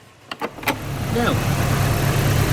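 A Nissan Silvia S13 with a CA18DET engine runs at a steady idle after a cylinder 3 injector replacement. A few short bumps come first, then a continuous, even low rumble holds at a close distance, with no talking over it.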